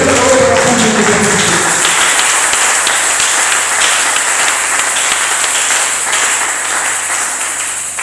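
A church congregation at a Sunday service applauds loudly and steadily, dense clapping filling the whole stretch and easing off slightly toward the end.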